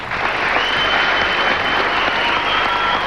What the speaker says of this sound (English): Dixon, Crystal, Gayle, would you please applaud all of them?